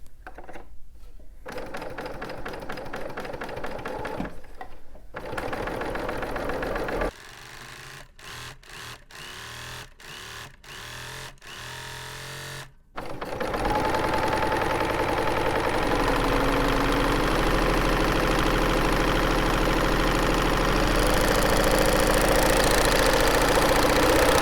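A sewing machine stitches a rolled hem at 5/8 of an inch, running in a steady, fast mechanical whir with short pauses and a few clicking bursts between runs, then one long unbroken stretch of stitching, close and loud, with no talk.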